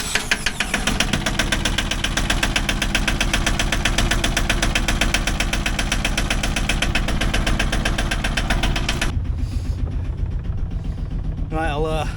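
A car engine, started with a screwdriver and fitted with a faulty gearbox, runs at a steady, loud, rhythmic idle while warming up, its close mechanical pulsing easing near the end as a voice speaks over it.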